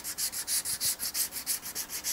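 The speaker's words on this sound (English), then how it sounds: "get the guitar sanded up to 320 grit" Steady back-and-forth sanding of a guitar body, working up toward 320 grit, with about a dozen even rhythmic strokes, close and alone.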